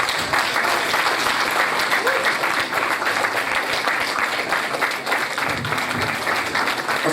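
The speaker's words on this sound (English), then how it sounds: "I think it deserves a big round of applause" Loud, sustained applause from an audience at a grand finale ceremony marking sixty years of television in Africa, steady dense clapping filling the whole stretch without a break.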